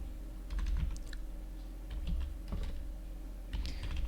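Typing on a computer keyboard, with quiet, close clusters of key clicks in short bursts separated by brief pauses over a low background hum.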